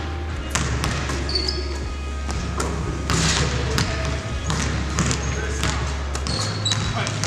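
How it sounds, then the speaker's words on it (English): A basketball bounces repeatedly on a hardwood floor amid a noisy high school gym, with squeaks and people talking in the background. "The sound of basketball to hardwood deep into March."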